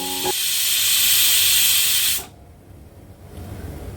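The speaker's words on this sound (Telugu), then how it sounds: "ఇంకా ప్రెషర్ కుక్కర్ 2 విజిల్స్ ఇస్తుంది." A pressure cooker whistle lets off a loud, steady jet of hissing steam up close for about two seconds, then cuts off abruptly, leaving a quieter background hum.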